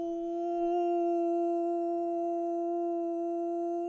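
A single sustained wolf howl sound effect, one long clean tonal note holding steady at an even pitch, loud and alone.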